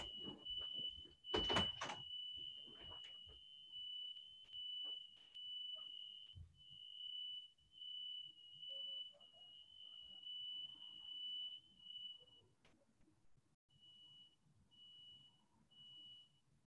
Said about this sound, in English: I think the fire alarm is going off.